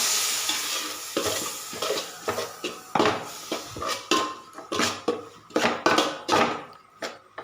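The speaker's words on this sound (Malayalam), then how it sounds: "ഇതിലേക്ക് രണ്ട് തക്കാളി മിക്സിയുടെ ജാറിലേക്ക് അരച്ചെടുത്തതാണ് അത് ചേർത്ത് ഇളക്കി യോജിക്കാം" A spoon stirs ground tomato into fish head curry in a pan, giving repeated scraping and sizzling strokes in an irregular rhythm, close and clear, with no voices.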